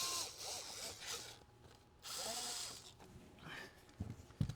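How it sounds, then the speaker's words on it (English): A 6 mm tool turns out a panel screw on a Tesla, with short bursts of a small power driver's whir, a pause, then another burst and a few faint ratcheting clicks and knocks, quiet and close. "this is the screw we're going to have to remove. We're going to take a 6mm,"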